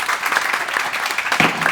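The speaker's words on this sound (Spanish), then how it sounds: "Un aplauso para él, por favor, Yago" Audience at a panel discussion on children's television applauds to welcome a guest, a steady wash of clapping throughout the short stretch with a brief voice near the end.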